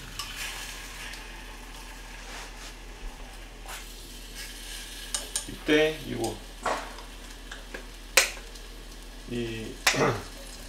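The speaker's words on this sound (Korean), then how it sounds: "살짝 이제 볶아진 소리 나죠?" Kimchi sizzles softly in a pan, with occasional scraping and clinking of utensils and a few brief spoken words.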